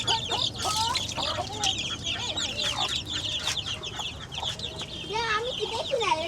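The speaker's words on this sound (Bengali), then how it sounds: "তো গাইস দেখেন এই যে মাশাআল্লাহ আমাদের সবগুলো মুরগি" Chickens and their chicks cluck and chirp busily while being fed, many overlapping calls close by and continuous throughout, with some talking faintly underneath.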